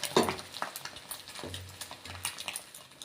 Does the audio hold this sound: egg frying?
yes